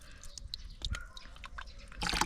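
Water splashing as a container is rinsed out after pouring rooting solution, a few light drips and sloshes in quiet surroundings ending in a brief louder splash.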